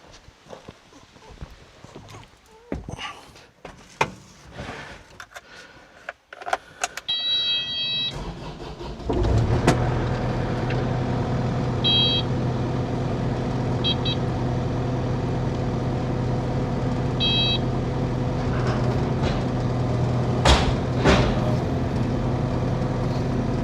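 A farm machine with a hydraulic thumb starts up after some clanks and handling noises, then settles into a loud, continuous engine drone with occasional beeps and knocks on top.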